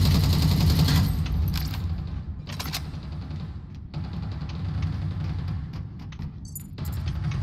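Gunfire in the online shooter Eve Vanguard: dense bursts of automatic fire and repeated shots, loud at first then continuing in clustered volleys and sharp single cracks, with no talk.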